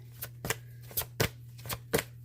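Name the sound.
oracle cards being shuffled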